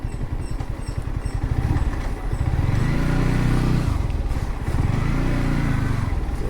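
Motorcycles and other motor vehicles arriving at the start of a trek at Kaiwara Betta, loud engine drone rising and falling as they pass and rev close by, continuous throughout.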